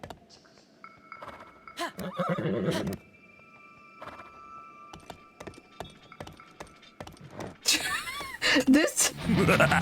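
A horse whinnies in short bursts amid sounds from a Legend of Zelda game and clopping, with a person talking over parts of it.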